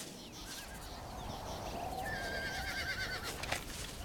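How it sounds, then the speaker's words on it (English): Horses neigh and whinny in Red Dead Redemption, with one clear, fairly faint whinny rising over an outdoor game ambience and a few soft thuds. "Those are horses, not deer."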